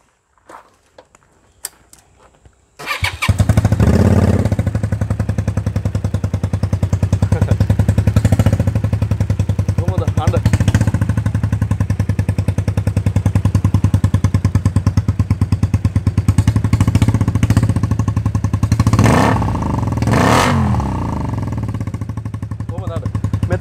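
A Honda CRF250 motorcycle engine fires up after a few clicks and settles into a loud, close, steady thumping idle with a slight rough pulse, running continuously while someone talks over it.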